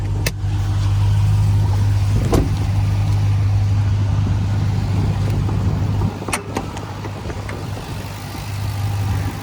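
Steady loud engine idle from a 2021 Ram TRX at cold start, a constant low drone with a faint whine, a few sharp clicks, and a brief dip in level near the end.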